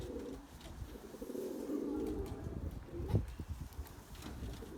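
Erzurum white breeding pigeons coo in low, soft, repeated calls in a crowded loft, with rustling and a brief knock in the background.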